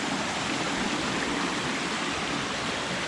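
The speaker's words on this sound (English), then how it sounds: "Doubletop Brook." Doubletop Brook runs in a steady, loud rush of flowing water, a broad continuous hiss close by with no voices over it.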